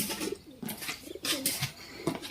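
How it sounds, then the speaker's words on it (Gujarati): Pigeons being fed millet coo close by in a quick series of soft, throaty calls, with a faint rustle between the calls. "આમાં જો કબૂતર આવ્યા ને કબૂતર આવ્યા"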